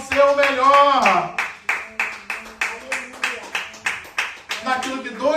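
Church congregation clapping in steady rhythmic unison, loud and close, with singing or voices mixed in over the claps.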